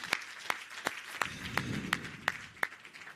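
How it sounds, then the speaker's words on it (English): A few scattered, spaced hand claps from an audience at a ministerial meeting with property practitioners and real estate companies, applauding the minister and acting CEO; sparse, distinct claps over low room murmur. "Can we clap hands for the minister and the acting CEO?"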